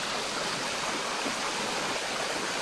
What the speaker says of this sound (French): on va passer ce petit ruisseau, cette rivière là